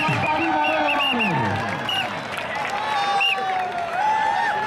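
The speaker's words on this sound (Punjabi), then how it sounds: "ਹੁਣ ਤਾੜੀ ਮਾਰੋ ਤਾੜੀ ਮਾਰੋ" Crowd clapping at a kabaddi match, steady applause mixed with cheering and a lively outdoor hubbub, while an announcer talks over it.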